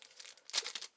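A Yu-Gi-Oh! booster pack wrapper is torn open, a close, brief run of crinkling and ripping foil that grows louder midway, with a short final crinkle after a pause.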